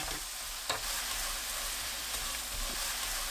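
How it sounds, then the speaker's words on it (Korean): Anchovies are stirred into a bubbling sugar and mirin sauce in a pan kept hot by leftover heat after the burner is off, giving a soft, continuous sizzle with a few light scrapes and clinks of the spatula. "멸치 넣고 섞어주세요."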